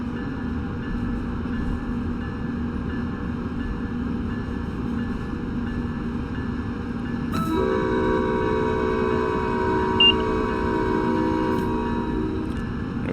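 Passenger train in Train Sim World 6 on a New York to Dover service, a steady running rumble of the consist with tonal horn blasts joining partway through and lasting to the end.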